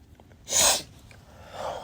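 A single sharp sneeze caused by pollen allergy bursts out mid-clip, loud and close, followed by quiet breathing and a faint exhale.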